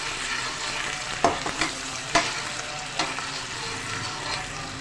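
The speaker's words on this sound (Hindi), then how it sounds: "प्याज को स्लो हम हल्का हल्का सा गुलाबी कर लेंगे, स्लो आंच पे।" Chopped onion fries slowly over a low flame for masoor dal khichdi, giving a gentle continuous sizzle with a few crisp clicks from stirring.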